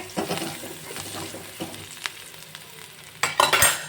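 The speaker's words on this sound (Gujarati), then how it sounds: "હવે હું ડુંગળીને થોડીક વાર હું એને શેકીશ" Half a cup of onions sizzling in a pan while being stirred for a Kathiyawadi chavana curry, soft frying hiss broken by spoon scrapes and a louder burst of stirring near the end.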